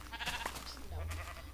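Sheep bleat in Minecraft, a few short game bleats layered with background game sounds and faint low hum, moderately quiet throughout.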